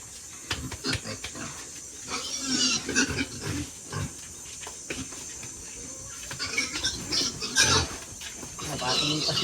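Pigs grunt and snuffle repeatedly at close range, with scattered shuffling and clattering, while a person talks intermittently in Filipino.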